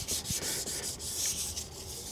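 Hand rubbing back and forth across a rough, weathered Porsche headlight lens, giving a close, faint, raspy scratching sound in quick repeated strokes, heard alone.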